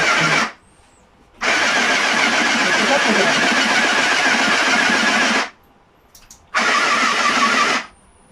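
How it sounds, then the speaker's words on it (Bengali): A VOF FHSM 398 electric 5-in-1 sewing machine runs under foot-pedal control, giving two bursts of steady, close motor whirring: a long run of about four seconds, then a shorter one, with quiet pauses between. "যখন আমি প্যাডেলটা চাপ দিব তখন মেশিনটা চলে যাবে"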